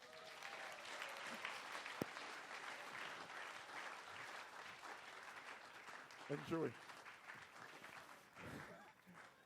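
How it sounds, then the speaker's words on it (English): Applause fills a children's worship service for two children, a steady wash of clapping from a gathered crowd that keeps going while a voice speaks over it. "Give them both a round of applause."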